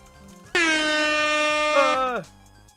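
A single loud air horn sound effect blares for about a second and a half, a harsh sustained buzzing tone that bends down in pitch as it cuts off, over a quiet background.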